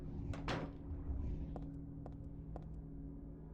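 A door opening in the Silent Hill 3 video game, with a brief creak and thud near the start followed by a few quieter clicks over a low steady ambient hum.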